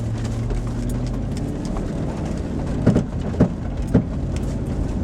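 A vehicle climbing a rough, snowy trail with its wheels spinning: a steady low engine rumble broken by a few heavy thumps and jolts near the end, with no talking.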